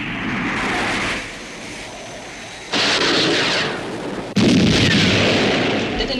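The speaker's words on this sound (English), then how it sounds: "Commencing missile sequence. Firing" Sci-fi television missile launch and detonation in UFO, a loud sustained roaring rush that drops briefly, then returns in two abrupt stepped surges of dense rumbling blast noise.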